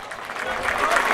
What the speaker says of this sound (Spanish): Arrancó el aplauso de la gente del equipo de Central acá en la tribuna.